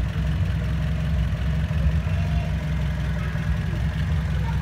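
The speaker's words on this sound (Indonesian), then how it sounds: "Nah ini mesin nyala, suara mesinnya itu tidak ada kasar keras ya, ini halus stabil" A used car's engine idles smoothly and steadily, a low, even rumble with a regular throbbing pulse close by, unbroken and without talk.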